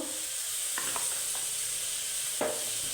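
Whole green chillies fry in a little oil in a pan, a soft continuous hiss and sizzle with a few light scrapes of a stirring utensil, close but fairly quiet, with no voices.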